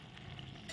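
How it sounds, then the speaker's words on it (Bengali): Sugar being stirred into steamed dhekia fern greens in a pan, a short soft scraping and rustling with faint sizzle, steady and close, no voices. "চিনিটা দিয়ে একটু নাড়াচাড়া করে নিলাম।"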